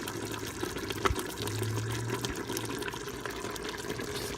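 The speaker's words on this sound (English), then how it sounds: "pour the vegetable mixture in" A vegetable and chicken mixture is poured into a pot of Cameroonian groundnut soup, a soft continuous wet pouring and sloshing under a low background hum, with a brief knock partway through and no talk.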